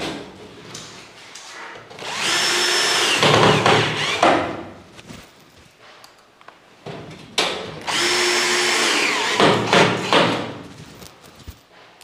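A power drill driving screws into a gypsum ceiling panel, two long whirring bursts of about two seconds each with thumps and handling noise around them, loud and close.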